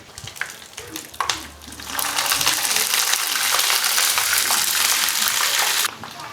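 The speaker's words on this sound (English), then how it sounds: "So the frying is ongoing and again under very moderate heat so that it takes its time to fry." Food fries in oil over moderate heat. A few clatters come first, then a steady, close sizzling hiss runs for several seconds before cutting off.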